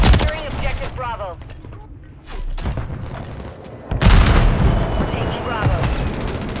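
Grenade explosions and gunfire in Modern Warfare 3 multiplayer, loud rolling blasts and bursts of shots, with a heavy boom near the middle followed by sustained roaring fire; game voices call out over the noise.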